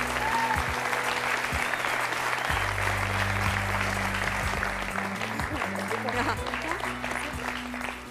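A TV studio audience on a French talk-show set applauds a young girl being welcomed on stage, with steady, full clapping throughout, while low musical tones sit underneath.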